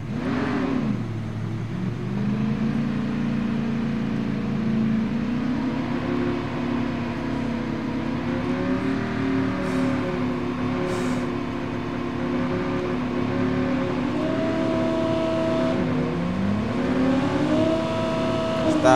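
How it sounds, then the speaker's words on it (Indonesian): Motorbike engine in the mobile shooter Call of Duty Mobile, a steady droning whine that rises and falls in pitch as it revs, continuous and fairly loud throughout with no talk. "Masih Teho Beng masih dengan motornya"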